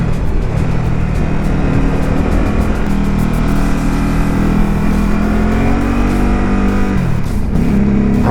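A 2019 Ducati SuperSport 950 motorcycle rides along with a steady, loud engine drone and wind rush, its twin-cylinder note rising and falling slightly as it accelerates, with no talking.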